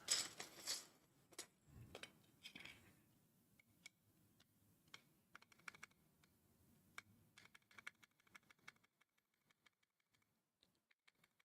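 Clicky taps come from a mechanical keyboard's spacebar fitted with GMK keycaps, starting with a few louder clacks and then settling into a scattered, irregular run of quieter close taps that thin out toward the end.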